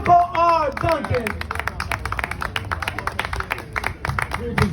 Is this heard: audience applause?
yes